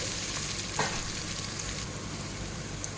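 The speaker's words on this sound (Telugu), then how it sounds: "ఇప్పుడు అల్లం వెల్లుల్లి పేస్ట్ చేస్తున్నాను దీన్ని కూడా ఆనియన్తో పాటు బాగా ఫ్రై చేసుకోవాలి" Ginger garlic paste sizzling with onions in a pan for mutton rice, a continuous crackling fry with a brief stir near the start, steady and close, no talking.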